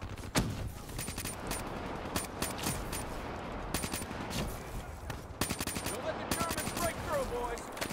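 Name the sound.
gunfire in Black Ops 3 video game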